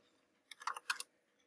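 Quick burst of keystrokes on a computer keyboard, a few close clicks ending in a firmer tap of the enter key, alone against near silence.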